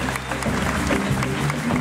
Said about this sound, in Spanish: Un aplauso. A nuestros técnicos y asistentes.